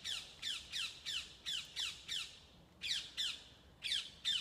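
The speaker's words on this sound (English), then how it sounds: "It's a ring-necked parakeet." A ring-necked parakeet in suburban woodland gives a rapid series of about a dozen harsh, shrill squawks in a steady rhythm, briefly pausing midway, fairly near and clear.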